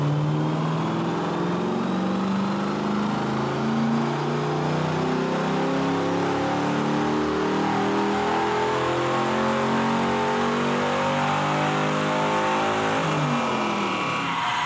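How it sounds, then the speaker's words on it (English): Big V8 in a Camaro SS, tuned for more power and better fuel economy, revs hard and pulls through a sustained acceleration, loud and close throughout with rising engine pitch and no talking. "It is one of the smoothest running engines, big V8s I've ever had."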